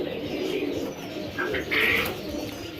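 Sialkoti pigeons in a breeding setup give soft, low coos close by, with a few brief higher chirps standing out over a steady background rumble.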